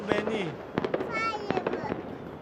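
Close New Year's Eve fireworks in Kuala Lumpur, 2011, pop and crackle in a rapid cluster of sharp bursts while people talk excitedly through the display.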